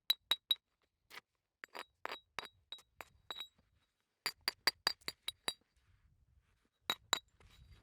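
Obsidian being flintknapped to knock off thin, brittle edges: sharp glassy clinks and taps in quick bursts and pauses, close and crisp, with no voices.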